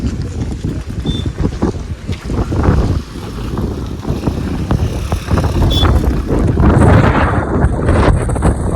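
Strong wind buffets the microphone on a misty hilltop at Saputara, a loud, rumbling roar that swells and gusts throughout with no speech.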